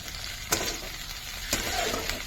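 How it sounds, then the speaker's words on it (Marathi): Green chillies and finely chopped garlic sauté in a pan for a dry spinach bhaji, giving a steady close sizzle broken by two sharp stirring clatters about a second apart. "आता हिरवी मिरची छान परतलेली आहे"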